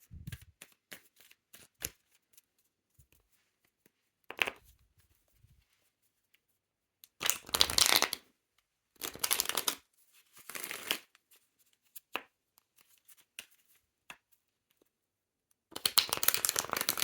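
Tarot cards being shuffled close up, in several separate bursts of crisp, fluttering card riffles with quiet pauses between them.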